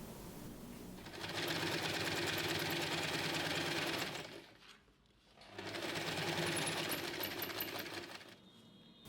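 A sewing machine stitches tote bag panels together with a half-inch seam, running in two long, steady bursts of rapid mechanical whirring separated by a brief pause, close and loud with no talk.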